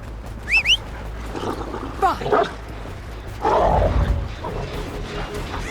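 A dog barks in the horror video game Dead by Daylight, giving a few short yelps amid game sounds and ambient noise, with a louder burst partway through.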